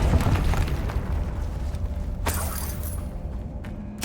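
A Confringo spell explosion in the Hogwarts Legacy game, a burst with a sharp crack and shattering debris over a rumbling combat backdrop, followed by a few lighter impacts, with no talk.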